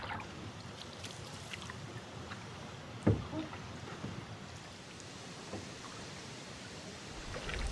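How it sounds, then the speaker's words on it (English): A canoe is paddled across a lake on a chilly, calm fall day during a wilderness trip. Soft, faint water swishes and drips sit over a low breezy hush, with one brief knock partway through. "I just set off on a 5-day canoe trip"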